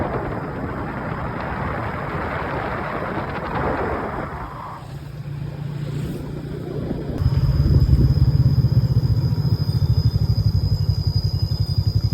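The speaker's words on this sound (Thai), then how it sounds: "มามีฝนตกครับ" Rain pours and thunder rumbles during a storm in Muang Koun Kham, Laos, a broad wash of rainfall that eases midway, then a low, loud rolling roar swells and continues to the end.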